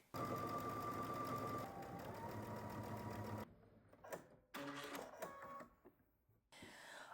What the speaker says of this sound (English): head to the sewing machine and you're just going to edge stitch along the top of your main fabric